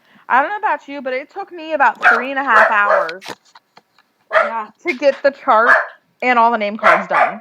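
A pet dog barks and yips in short bursts alongside two women chatting, the animal sounds mixed in and partly masked by their steady conversation.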